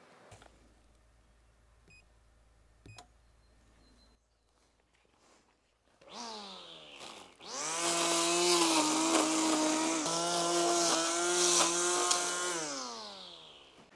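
An electric power tool running off a Bluetti AC300 power station in a garden: a few faint beeps and clicks, then the motor whines up loudly, holds a steady, buzzing drone for several seconds and starts to wind down.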